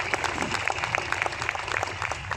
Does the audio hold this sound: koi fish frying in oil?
no